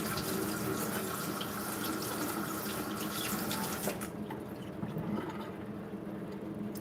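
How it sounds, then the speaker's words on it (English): A kitchen tap runs steadily as something is rinsed beneath it, a continuous close splash that changes tone partway through as the flow or the item under it shifts. "Let me rinse that off."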